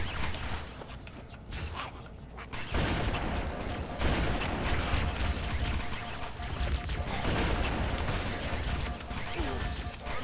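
Sniper rifle gunfire in Halo: Combat Evolved, rendered as loud, sharp shots with crashing impacts over a dense, noisy battle soundscape that stays busy throughout.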